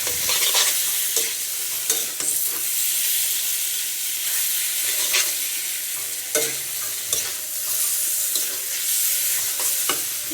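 Water goes into a pan of cooking pabda fish curry, bringing loud, continuous hissing sizzle and steam, with intermittent stirring scrapes close by and no voices.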